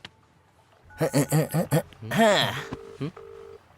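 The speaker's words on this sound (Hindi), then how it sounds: "ए, रिंग जा रही है।" On an outgoing telephone call, two short, flat ringing-tone bursts sound near the end, after a burst of loud, close speech.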